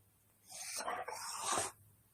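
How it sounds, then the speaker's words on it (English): A dog snuffles and whines for about a second, near and fairly soft, with a phone-call line hum underneath. "It's my dog."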